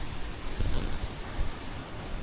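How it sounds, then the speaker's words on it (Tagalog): Strong wind roars steadily at a seaside fishport, a dense, buffeting rush that surges and dips without a break, with no voices. "Grabe, lakas ang hangin dito."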